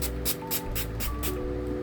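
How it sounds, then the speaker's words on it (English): A bottle of makeup setting spray is pumped six times in quick, even succession, each spritz a short, close hiss. "the setting spray is everywhere"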